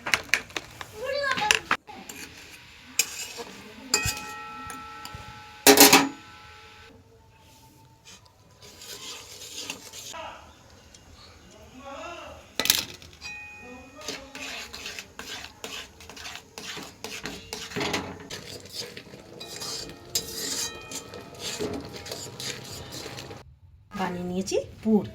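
Batter with a little salt is whisked in a bowl for a Bengali stuffed oil pitha, irregular scraping and tapping strokes under ongoing talk, including a voice.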